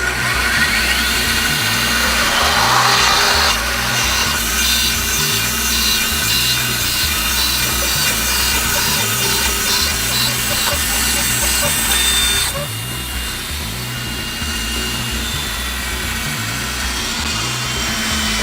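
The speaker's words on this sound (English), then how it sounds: "So band saws work great for this." A band saw cuts a length of wood for a tile installation, a steady motor whine with a rasping cut that drops in tone partway through, close and loud.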